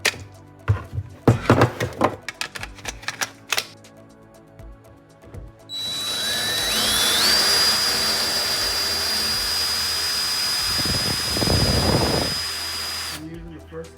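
Handling clicks lead into a DeWALT DCK283D2 cordless drill running in first gear, spinning up with a rising whine and holding a steady close hum for several seconds before stopping.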